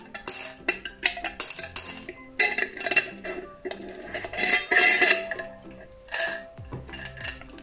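A one-euro coin dropped into a piggy bank, with a run of close, bright metallic clinks and small rattles spread irregularly across several seconds, fairly quiet and with no talking.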